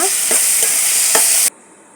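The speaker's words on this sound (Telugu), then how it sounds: "ఇప్పుడు వీటిని బాగా కలపాలి" Spoon scraping and stirring through turmeric and curry leaves sizzling in a hot pan, a few rhythmic strokes over steady frying hiss that cuts off abruptly.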